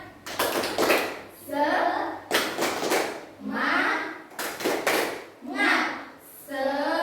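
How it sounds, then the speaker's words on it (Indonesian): In an Indonesian primary classroom, children perform a group clapping chant: crisp bursts of many small hands clapping in a set rhythm alternate with the class chanting together, repeated several times at close range. "Tepuk semangat."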